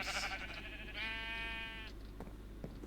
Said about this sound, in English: We actually need to farm a lot of sheep.